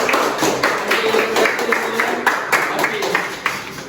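A classroom of students claps together in a steady burst of overlapping hand claps, with chatter mixed in underneath.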